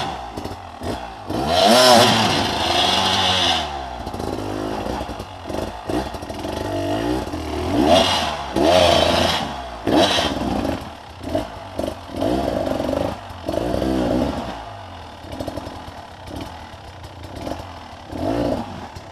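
A light 20 kg enduro motorcycle at a mountain enduro race revs hard and loud in repeated bursts, its engine rising and falling sharply with rattling clatter between surges, close by and with no talking over it.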